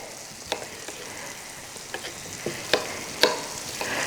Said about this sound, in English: Meanwhile, the prawn is getting fried.